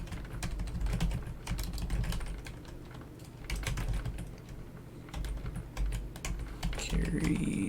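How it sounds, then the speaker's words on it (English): Computer keyboard typing during an email login in the game Vigil OS 1, clicking in steady bursts of keystrokes with short pauses, fairly close and clear, with a brief electronic tone near the end. "If I could type."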